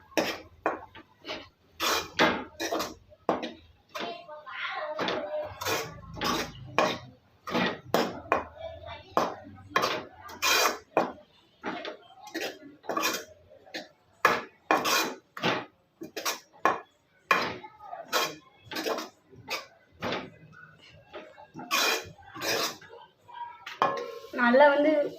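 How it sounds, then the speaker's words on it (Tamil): Masala for a banana flower stir-fry being stirred in a pan over low heat, a run of close, fairly loud scraping and clinking strokes from the spoon against the pan, steady throughout. "சிம்மில் போட்டுட்டு நல்லா அந்த மாதிரி கிண்டி விட்டுட்டே இருக்கணும்"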